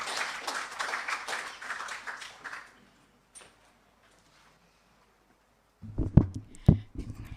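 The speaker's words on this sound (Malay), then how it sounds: "Sila berikan tepukan gemuruh buat Puan Zahra" Applause for a guest at a Malay cultural gathering: a few seconds of steady audience clapping that fades to near silence, followed by a voice starting to speak close to the microphone.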